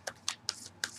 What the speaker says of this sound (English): as I was pre-shuffling, two cards came out